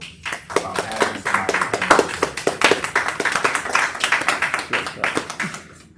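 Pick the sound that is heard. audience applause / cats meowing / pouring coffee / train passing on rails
audience applause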